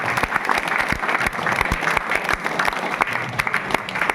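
Audience applause fills a hall at a window inauguration event at a boys' hostel in Kurnool, with dense, steady clapping running throughout, fairly close and loud.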